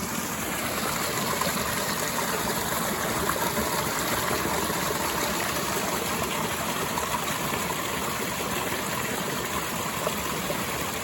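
Stream flowing at a trail water crossing on the Appalachian Trail near Rutland, Vermont, a steady, even rush and babble of water throughout, moderately close with no voices.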